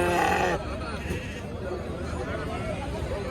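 Sheep bleat at a busy weekly sheep market, one loud close bleat at the start followed by a wash of crowd babble and distant animal calls.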